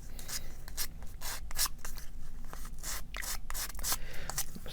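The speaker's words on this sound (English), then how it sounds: "Sanding." Quick, rhythmic sanding strokes rasp back and forth up close on a wooden puzzle part, each scratchy pass following the last in a steady, brisk pattern.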